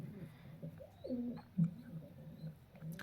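A female pigeon coos softly nearby, a few low throaty calls rising and falling over a quiet background.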